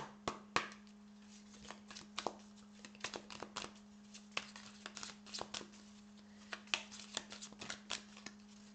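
Tarot cards shuffled and cut by hand, a steady run of soft riffling slaps and sharp card flicks, close and fairly quiet over a low constant hum.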